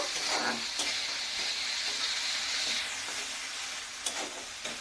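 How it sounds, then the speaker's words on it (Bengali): Capsicum sizzling steadily in hot oil in a pan, with a spatula stirring and scraping now and then and a few sharp clicks, all close and fairly quiet, no voices. "ক্যাপসিকামটা একটু ভালোভাবে ভাজা ভাজা করে নেব।"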